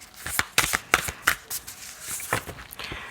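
Playing cards are shuffled and handled to draw the first card, giving a string of quick, crisp riffling snaps and slides close by, with no talking.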